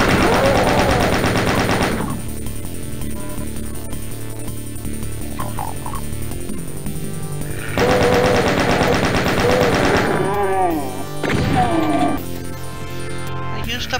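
Gunfire in the video game Evil Final Doom, loud sustained rapid automatic shooting in long bursts over a continuous game soundtrack, with brief pauses between volleys.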